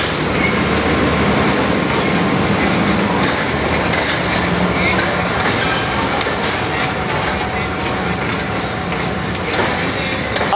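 A passenger train on an Indian railway departs with steady, loud rumbling and rhythmic clickety-clack of wheels over rail joints, continuous and close throughout.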